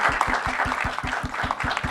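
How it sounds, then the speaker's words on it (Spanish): Audience applause for a guest speaker at a science congress, dense and steady clapping from a sizable crowd throughout, with rhythmic low thumps underneath. "Un aplauso a Shannon."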